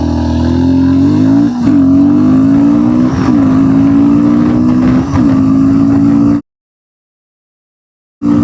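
Royal Enfield sports motorcycle pulling away in first gear, a loud close engine note rising steadily with brief dips at each shift or throttle change, then cutting to silence before resuming.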